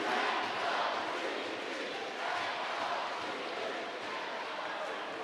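Ecocity fans cheering at a futsal arena during a Serie A match, a dense, steady roar of crowd noise with shouting, heard at moderate distance.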